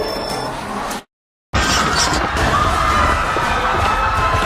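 Toy Lego car smashing through ten stacked Lego brick walls, a loud clattering crash and scatter of plastic bricks after a brief silent gap, sustained noisy debris and excited voices in the background.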